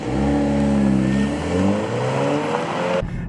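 A 2024 BMW X2 coming up to a stop sign, its engine note loud and close, winding down steadily as the vehicle slows, then cutting off abruptly near the end.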